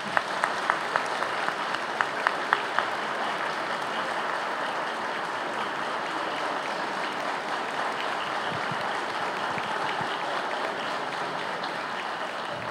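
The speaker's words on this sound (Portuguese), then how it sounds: "eu vou pedir uma salva de palmas para a dona Leda" Audience applause at a Uerj ceremony presenting the José Bonifácio medal to a professor: a steady, dense wash of clapping from a hall crowd, sustained for about thirteen seconds with a few sharper individual claps early on.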